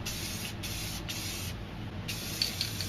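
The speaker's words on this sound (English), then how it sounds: "Then I'm going to continue and spray some black over here for the mountains." Spray paint can spraying black paint: a steady hiss in several short bursts with brief breaks between them, close and continuous, plus a couple of faint clicks near the end.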